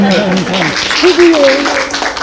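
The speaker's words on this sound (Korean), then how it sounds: "다시 한번 박수 해주세요" An audience at a Geumsan county governor's public talk applauds, a broad clapping wash heard under a voice that speaks over it.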